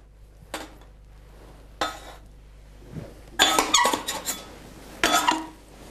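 A nougat maker works a blade through the ingredients for traditional Christmas guirlache and marzipan, pressing them into a dense dough, producing a few scattered scraping squeaks and clatters, clustered near the end with brief metallic clinks.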